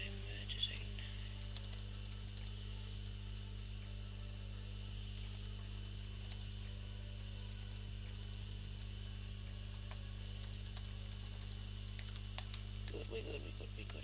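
A message is typed on a computer keyboard in quiet, irregular clicks over a steady low electrical hum, with no clear talk.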